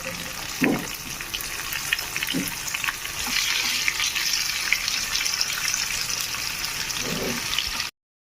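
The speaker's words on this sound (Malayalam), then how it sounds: "ഓയിൽ ഒഴിച്ച് ചൂടായതിന് ശേഷം കറിവേപ്പിൻ്റെ ഇട്ടു ഇനി നമ്മുടെ ആ മസാല ഒക്കെ പിടിച്ച ആ ഫിഷ് നമ്മൾ അതിലേക്ക് ഇട്ട് കൊടുക്കാം" Masala-marinated fish frying in hot oil with curry leaves, a steady close hiss and crackle of sizzling, with a few soft clinks from the pan.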